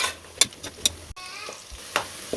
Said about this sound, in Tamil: இப்போ அதையும் சேர்த்து நல்லா வதக்கி விட்டுடலாம்.